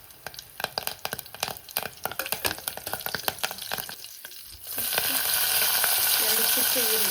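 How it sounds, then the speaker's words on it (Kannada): Mustard seeds popping in hot oil, a dense burst of sharp crackles and spits, then a sudden loud, steady sizzle as curry leaves drop into the pan, close and without talk. "ಸೊ ಮೊದಲೇದಾಗಿ ಸಾಸಿವೆ ಸಿಡಿಸ್ಬಿಡೋಣ. ಮತ್ತು ಕರಿಬೇವು, 1 ಎಸಳಷ್ಟು ಕರಿಬೇವು"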